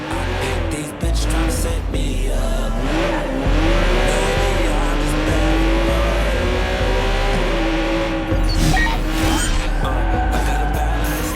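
A car in the video game Watch Dogs 2 drives toward a pier, its engine a loud, close, continuous drone that rises and dips in pitch, with tire and road noise throughout.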